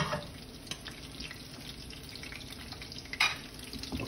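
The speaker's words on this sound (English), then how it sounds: "if you got your oil right, nice and breaded, these fry up pretty quickly" Breaded oysters fry in hot oil with a steady, close, wet hiss throughout, broken by a single light clink near the end.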